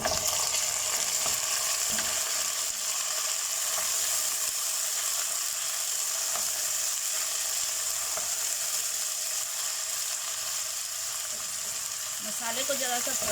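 Ginger garlic paste fries with golden onions for mutton nihari, giving a steady, close sizzle that holds for the whole stretch, with a faint scrape of stirring near the end.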